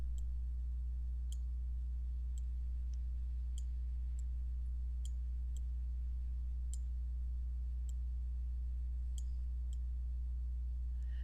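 Computer mouse buttons clicking at a desk during compositing work in Nuke, a dozen or so faint, sharp, evenly spaced clicks over a steady low electrical hum.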